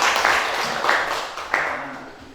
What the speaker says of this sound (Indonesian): Ya, kasih tepuk tangan dulu, Pak